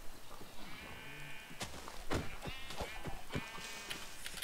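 Sheep in the Minecraft video game bleat in short, wavering calls over soft background game noise, mixed with a few sharp clicks and thumps.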